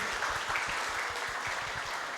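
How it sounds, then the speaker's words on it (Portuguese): A seminar audience gives applause for all the participants: a steady, dense wash of clapping that holds evenly for about two seconds with no voices on top. "Palmas então para todos os participantes."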